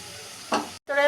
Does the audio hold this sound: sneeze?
no